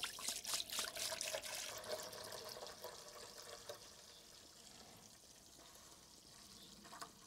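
Water pours into the tank of a VEVOR ultrasonic cleaner, splashing strongly at first and then thinning to a quieter trickle, close and with no voices.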